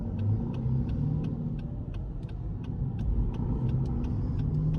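A 2019 Lexus ES300h hybrid car pulling away gently in EV mode, heard from inside as a steady low road rumble with faint rhythmic ticking, no engine roar.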